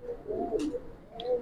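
Giribaz pigeons in a loft give soft, low cooing calls, two or three close murmuring phrases with a brief sharper flutter between them, with no one speaking.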